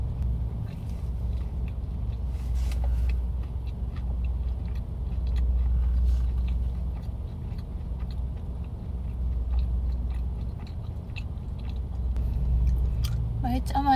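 Someone chews a matcha walnut cake with a rice cake filling inside a parked car, the soft mouth sounds sitting faintly over a steady low cabin rumble.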